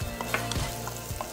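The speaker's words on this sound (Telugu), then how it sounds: "ఆ జీలకర్ర లైట్గా వేగుతున్నప్పుడు ఇందులో సన్నగా తరిగిన వెల్లుల్లి" Cumin seeds and finely chopped garlic sizzling in hot oil for an amla pickle tempering, a dense close crackling sizzle with a few spoon stirs.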